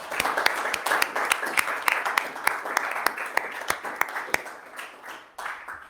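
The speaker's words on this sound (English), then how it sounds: "we'd also like to give you, Anne, a round of applause as well for your 40 years in volunteering" A council meeting audience gives a sustained round of applause honouring a volunteer's 40 years of service, dense overlapping claps with sharper individual hand claps standing out, fairly close and steady throughout before easing slightly near the end.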